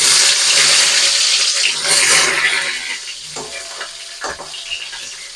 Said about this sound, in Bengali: এবার আমি পটলগুলোকে ভেজে নেব।